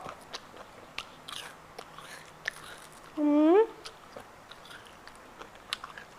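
Crispy fried salmon belly skin is bitten and chewed close up, giving a series of crunchy crackles, with a brief voice sound in the middle over a quiet room.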